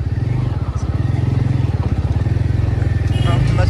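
A new motorcycle engine runs close by with a loud, rapid, steady thump of exhaust pulses that rises slightly toward the end, while people talk over it.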